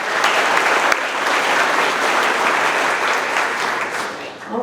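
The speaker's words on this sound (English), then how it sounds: "Let's make some noise for him." Sustained applause and cheering from a company audience at a monthly celebration as the Rookie of the Month is announced, a steady dense roar of clapping that holds for several seconds before easing slightly near the end.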